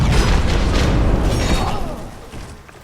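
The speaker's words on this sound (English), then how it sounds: "It's just a straight explosion." A loud explosion in the video game Dark Souls 2 gives a heavy booming burst up front that rumbles on and slowly fades over about three seconds.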